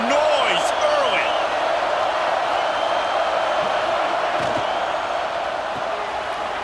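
Stadium crowd in the video game College Football 26 roars as a dense, continuous wash of cheering and shouting, loud and steady throughout, with faint whistling tones on top.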